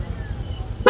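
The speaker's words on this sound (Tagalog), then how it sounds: "Sa busina, ang kinabit natin kay Sir, Corsa version 3, dual horn setup." A Corsa version 3 dual horn fitted to a Yamaha MSI125 motorcycle gives one short, loud blast at the very end, after a low idling rumble.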